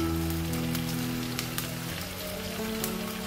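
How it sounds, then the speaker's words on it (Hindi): Brain masala frying on a high flame, a steady crackling sizzle like rain on a hot surface, close and continuous with a low hum underneath and no talking. "और आपने इसे हाई फ्लेम पे फ्राई करना है।"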